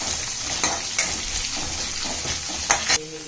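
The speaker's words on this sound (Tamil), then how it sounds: "காஞ்ச மிளகா கொஞ்சம் ஆட் பண்ணிக்கோங்க. வெங்காயம் ஆட் பண்ணிக்கோங்க." Dried red chillies and sliced onion frying in a pan for broken rice upma, a steady close sizzle with a few sharp clinks of a spoon stirring against the pan, no talking.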